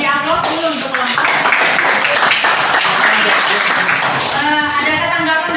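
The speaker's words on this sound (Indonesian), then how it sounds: "beri aplaus dulu untuk kelompok." Classroom applause for group 1 at SMA Ampera in Kota Sorong: steady, dense clapping from many students, loud and close, lasting throughout with voices mixed in.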